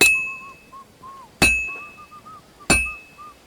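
Three loud metallic bell clangs from a bell being struck in Kingdom Come Deliverance 2, each strike sharp with a long ringing decay, evenly spaced and alone apart from a soft wavering tone between hits.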